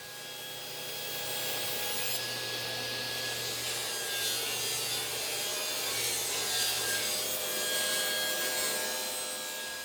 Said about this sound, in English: I tilted the blade on my table saw to 45 degrees and carefully made those cuts